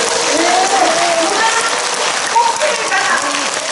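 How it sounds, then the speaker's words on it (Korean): Hands raised overhead, guests at a Daegu writers' association joint book launch in a live café give a sustained round of applause, dense and even like rain, loud and close with faint voices underneath. "많은 박수 부탁드립니다"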